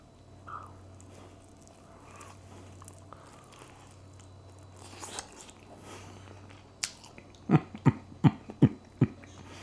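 Sweet and spicy pork rib tips smoked on a Recteq Backyard Beast pellet grill are bitten and chewed up close, a quick series of five or six wet, crunchy bites toward the end after a quiet stretch.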